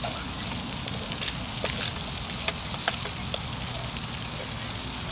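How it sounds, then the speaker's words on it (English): Pancetta and onions frying in a hot skillet, a dense steady sizzle with scattered crackling pops, loud and close throughout. "The cold onion against the hot skillet will then start breaking that down, and we'll be cooking it"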